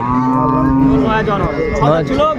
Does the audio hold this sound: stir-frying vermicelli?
no